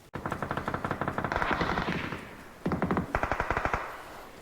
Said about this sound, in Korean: 왼쪽 집에서도 쏘고 오른쪽 산에서 쏘고